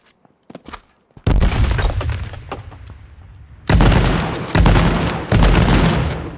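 In the video game H1Z1, a grenade blast and gunfire burst out loudly after a few faint clicks, with sustained heavy booming rumble and crackling debris in repeated surges.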